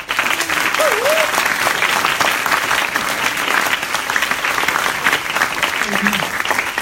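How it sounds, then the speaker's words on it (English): Sustained, loud round of applause from a Demo Day crowd, dense and even throughout, with a few cheering voices and brief whoops rising over the clapping. "Give her a round of applause."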